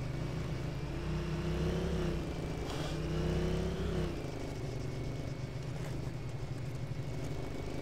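Car engine in ARMA 3 (Altis Life mode), a steady droning motor with rising and falling revs, loudest in the first half, then settling into a continuous hum to the end, with no voices.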